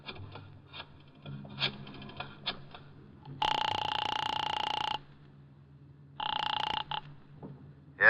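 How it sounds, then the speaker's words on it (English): An old-fashioned telephone rings after a call is dialed, a radio drama sound effect: two long, loud ringing bursts separated by a pause, with faint clicks and handling noise before them and no voices. "I got out and found a telephone. I dialed the Kelsey residence"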